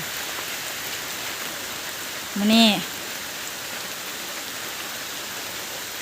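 Light rain falling as a steady soft hiss, with a brief call from a person nearby partway through, outdoors where cattle graze in the rain.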